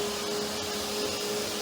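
A vacuum cleaner roars steadily and close up while cleaning the interior of a Ford EcoSport, a continuous broadband rush with a faint whine and no pauses or speech.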